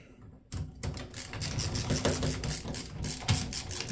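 Ratcheting screwdriver driving door knob screws produces rapid close clicking ratchet bursts after a brief quiet start, continuing in uneven runs.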